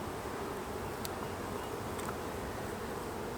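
Honeybees buzzing in a dense, steady drone as they are shifted into a brand new nuc box packed with comb, a couple of faint clicks breaking through, no talking.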